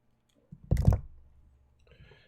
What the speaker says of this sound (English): I'm also going to get a little solder braid over here